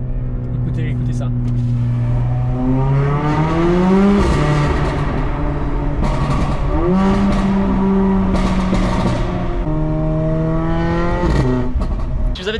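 Mercedes A45 AMG four-cylinder engine sliding through a small drift with stability control still on, rising and falling in pitch through several rev swells, close and loud throughout.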